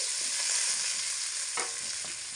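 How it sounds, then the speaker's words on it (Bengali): Eggplant pieces frying in hot oil over low to medium heat, giving a steady, loud, close hiss of sizzling that runs throughout, with a soft clink of a utensil partway through and no voices. "তো তেলের মধ্যে বেগুনগুলোকে দিয়ে প্রথমে ভেজে নেব।"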